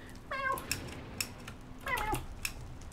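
A lava cat creature in a Minecraft modpack gives two drawn-out meows about a second and a half apart, with light clicking in the background of the game.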